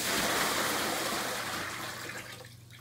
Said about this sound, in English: First, you're going to fill the Tupperware up with hot water.